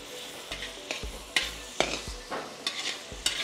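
Onion hits a hot pan with greens for military hotel style mutton chops, giving a steady sizzle broken by repeated scraping strokes of a spatula, close and moderately loud, with no voices.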